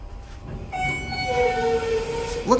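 A Schindler 300A hydraulic elevator motor runs in a parking garage, a steady droning hum with tonal whine that swells and holds, ending in a brief louder mechanical clunk.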